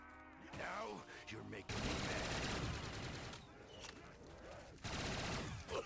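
Sustained automatic gunfire rattles almost without pause in a video game zombies mode, dense rapid bursts spraying into a crowd of zombies, loud and continuous with brief gaps.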